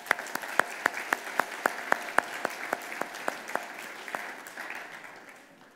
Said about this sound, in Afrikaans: Geef hande klap asseblief.